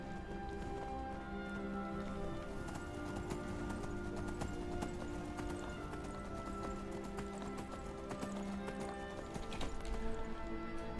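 A horse in the video game Skyrim clip-clops steadily on its hooves and whinnies once or twice, the rhythmic hoofbeats continuing throughout over faint game ambience.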